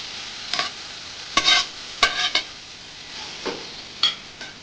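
Tomatoes being stirred into hot oil with ginger garlic paste for chicken biryani, with several short bursts of scraping and sizzling spread irregularly over a steady background hiss and no talking.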